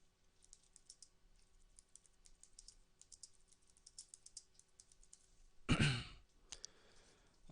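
Quick, light typing on a computer keyboard, heard close and quiet, with irregular bursts of key clicks, a loud breathy sigh near the end, and then a few more taps.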